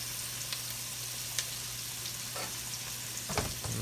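Meat sauce for spaghetti sizzling and caramelizing in a pan, a constant close frying hiss with occasional crackles and a faint stirring scrape near the end.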